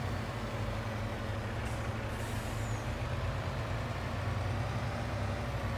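A vehicle in Farming Simulator 22 idling with a steady low engine rumble, broken by a short hiss of air brakes releasing partway through.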